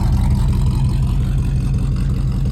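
A 1955 Buick Special Riviera runs with its exhaust close by, a loud, steady low rumble with a faint pulsing throb and no voices.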